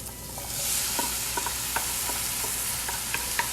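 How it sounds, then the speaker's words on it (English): Garlic, cayenne pepper and mushrooms sizzle in a hot pan, a dense close frying hiss dotted with small irregular pops and ticks throughout. "To this, we're gonna add the garlic and the cayenne pepper. And immediately we'll also add the mushrooms."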